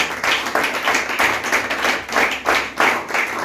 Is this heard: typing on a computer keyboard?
no